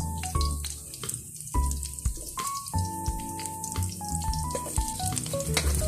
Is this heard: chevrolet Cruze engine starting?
no